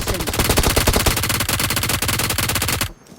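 Rapid automatic gunfire in PUBG Mobile, one loud continuous burst of evenly spaced shots close up, stopping abruptly after about three seconds.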